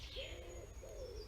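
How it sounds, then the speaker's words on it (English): Wood pigeons coo beside a garden pond, two soft hooting phrases close together against a steady outdoor background. "Lots of these were wood pigeons"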